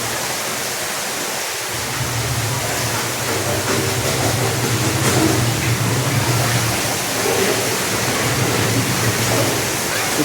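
Water gushing steadily from a spinning water feature at an outdoor playground, a continuous loud hiss and splash throughout with a low hum underneath.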